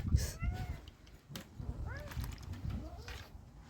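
A cat meows several times, short rising calls repeated through a family fishing outing in cold weather, with people talking and background noise.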